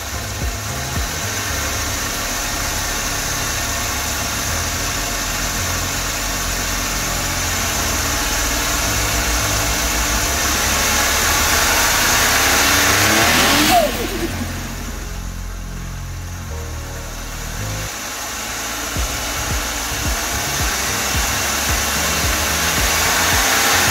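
Turbocharged Suzuki Samurai DA64W engine running close up, a steady loud whirring drone that rises slightly then drops and settles, with a noisy compressor also present and no talking.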